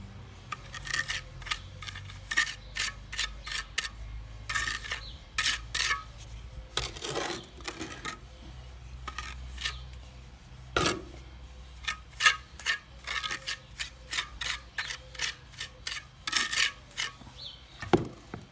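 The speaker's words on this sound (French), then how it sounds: "On met un petit peu de mortier comme ça. Voilà. On charge tous les petits trous." A trowel scrapes and taps mortar into small holes in a wall, producing a steady series of short, close scraping and clicking strokes in an irregular rhythm, with no talking.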